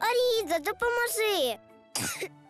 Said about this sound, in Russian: Кашель почався.